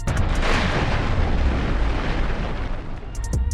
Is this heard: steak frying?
no